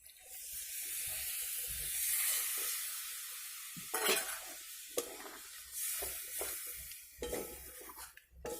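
Water poured into frying masala for an egg biryani sets off a soft hiss that swells then settles into a quieter simmer, with intermittent stirring clatter and spoon knocks against the pot.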